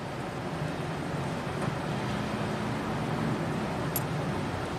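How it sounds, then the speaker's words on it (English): A 1985 Oldsmobile with a power fault runs with the throttle pushed down, its engine making a steady, even drone and road roar heard from inside the car, without speech. "And I push the throttle down"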